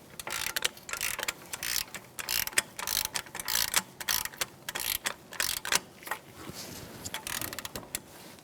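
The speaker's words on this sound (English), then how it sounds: "Tighten these up and torque them to 70 foot-pounds." A ratchet torque wrench tightening steering knuckle bolts on a 2014-2019 Kia Soul, giving rapid metallic ratchet clicks in uneven bursts, close and fairly loud, with no talking.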